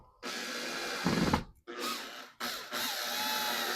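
Power drill driving a screw to mount an ImoLaza smart sprinkler controller: three close, loud bursts of whirring, with brief pauses between, the first run straining harder before stopping.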